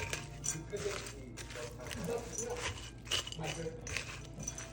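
Clinking and scraping of a spoon working a spinach ball mixture around a bowl, irregular light taps and rubs close by, with a person talking over it.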